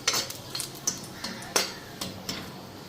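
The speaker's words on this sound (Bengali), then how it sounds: "একটু লাইরা নিই" Dried chili being stirred in a little hot oil in a pan, with a series of sharp utensil scrapes and clinks against the metal spaced about half a second apart over a faint background.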